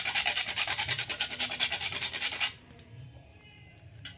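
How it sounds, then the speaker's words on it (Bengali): Whole nutmeg rasped against a grater into powder, a steady rhythmic scraping of quick close strokes for a couple of seconds before stopping, leaving faint room noise. "আর একটু জায়ফল গুঁড়ো করে আমি এর মধ্যে দিয়ে দেবো"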